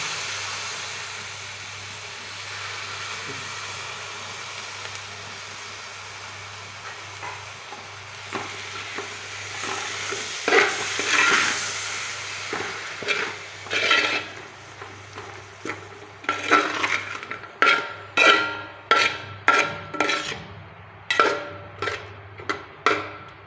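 Yogurt being stirred into vegetable biryani in a frying pan, a soft sizzle under repeated spoon scrapes that grow into a quick, regular run of strokes near the end, close and alone.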